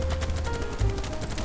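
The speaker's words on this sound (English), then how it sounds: "I hear some gunshots here." Gunfire in the BattleBit video game, a dense burst of rapid shots with a heavier thump near the middle, fairly loud against steady game noise.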